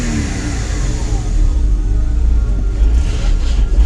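An old Porsche Boxster engine revs close by, loud and steady, with a slightly uneven, hesitant rise as the revs climb over a few seconds.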